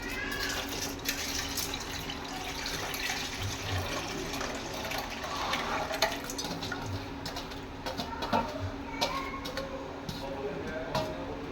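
Moong dal being rinsed in water in a glass in a home kitchen for sambar, with a soft continuous swishing and trickling of water, moderately quiet, with faint background birdsong.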